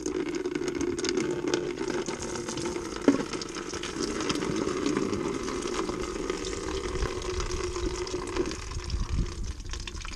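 Old rusty coolant drains out of a classic car, a steady close-up rush and trickle of liquid with a small knock partway through and no talking.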